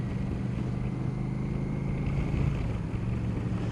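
A 1983 Honda CX650 Turbo motorcycle engine purrs in a steady, even low drone, continuous and moderately close, with a breathy wash of wind noise over it and no talking.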